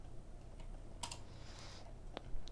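Keyboard keys tapped on a computer: a couple of sharp isolated clicks, close and fairly quiet over a faint steady background hum.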